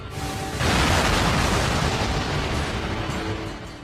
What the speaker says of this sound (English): And coming in at the number 1 spot is Explosion, possessed by Class 1A student Katsuki Bakug